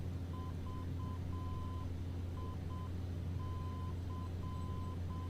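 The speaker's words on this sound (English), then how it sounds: "Yep, that's the right Morse identifier." Morse code identifier from a navigation beacon for Vicenza, heard in a flight simulator cockpit aboard a Black Square Caravan floatplane: a steady tone keyed in short and long beeps in repeating groups over a constant low engine drone.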